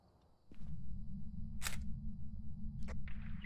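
A camera takes a photo in the Phasmophobia video game, giving short bright shutter-like clicks over a steady low hum, with a few separate snaps spaced across the moment.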